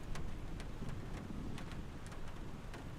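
Rain patters on the fuselage and wings of an aircraft in a flight simulator game, a steady dense wash with scattered sharper drop ticks, alone and fairly faint throughout.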